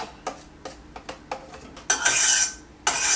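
Chopped garlic and onions are tapped into a cooking pot with a series of sharp clinks from a utensil. Two louder bursts of scraping and sizzle follow as the pieces hit the pot, all close and without talk.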